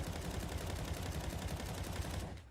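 Rapid gunfire from a first-person shooter with follow recoil enabled, a dense, steady burst of shots lasting a couple of seconds before cutting off abruptly.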